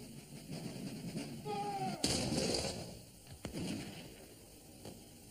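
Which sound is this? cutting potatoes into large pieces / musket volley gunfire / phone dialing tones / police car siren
musket volley gunfire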